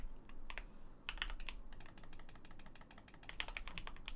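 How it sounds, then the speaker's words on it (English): Rapid clattering keystrokes on a computer keyboard during a gaming session, a dense run of sharp clicks that pause briefly and then resume, fairly close and alone with no voices. "Bro, homie's going crazy on that keyboard right now."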